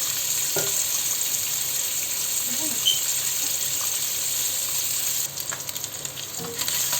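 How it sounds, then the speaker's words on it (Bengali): Eggs frying in a pan, a steady close sizzle with occasional spatula scrapes and a brief burst of running water and clatter toward the end. "এখন আমি ডিমগুলো ভেজে নেব"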